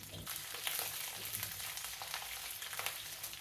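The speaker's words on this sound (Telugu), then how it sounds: "ఈ వెల్లుల్లి గబ్బాలు కొంచెం కలర్ మారే వరకు వేయించుకుందామండి" Garlic cloves and slit green chillies fry in ghee, giving a steady, close, even sizzle with no talking.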